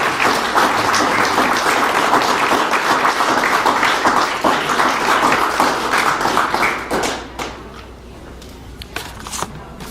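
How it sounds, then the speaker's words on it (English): A room of people gives the Governor a big round of applause at a gathering, loud sustained clapping that thins after about seven seconds into scattered claps and room noise. "Let's give the Governor a big round of applause"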